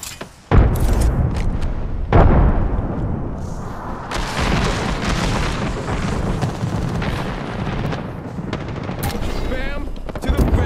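A frag grenade blast in Apex Legends hits hard and close, followed by a chaotic stretch of gunfire and booms with bursts of automatic fire and a loud detonation near the start.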